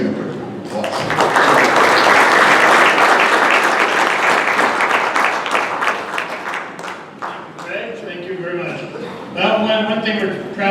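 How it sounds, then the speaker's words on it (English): A burst of loud applause from a large audience at a township annual town meeting swells and fades, then a voice begins speaking as the clapping dies down. "give them a quick round of applause"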